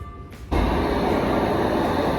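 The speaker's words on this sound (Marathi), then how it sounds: "आणि आमची ट्रेन आली आता." A Toronto subway train pulls into an underground station: after a short quieter stretch, a loud broadband rumble and rushing roar of the arriving train sets in and holds steady, close and continuous.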